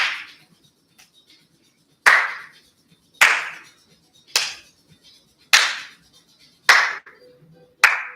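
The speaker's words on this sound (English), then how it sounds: "so we're going to clap." Single person clapping hands during a fitness exercise routine, seven sharp, close claps spaced about a second apart, each ringing briefly in a quiet room, with a faint softer clap early on.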